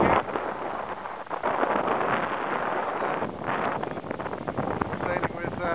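Wind rushes steadily across the microphone aboard a SIG 45 sailing yacht, a loud continuous roar of breeze with gusty swells and water noise blended underneath.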